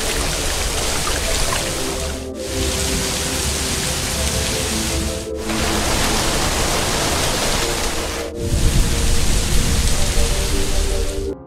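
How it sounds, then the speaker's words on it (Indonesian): Heavy rain and strong wind lashing a small river island, a continuous loud roaring hiss with no talk, broken by three brief dropouts and swelling slightly heavier near the end. "Hujan dan angin kencang mulai turun."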